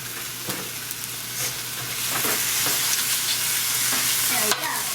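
Meat frying in a pan beside zucchini boats in preparation, a steady close sizzle with a few light scrapes and clinks of stirring and no voices.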